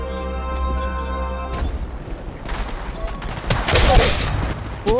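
Gunfire in a battle royale video game crackles in short bursts and booms after a tonal game sound, with loud noisy blasts building toward the end amid dense background action.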